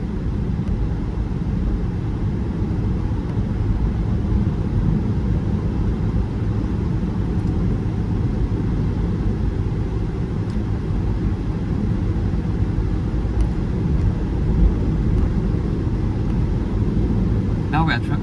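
A 2025 BYD M6 cruising on the road, with a steady low road and engine rumble filling the cabin continuously and evenly throughout, no voices heard.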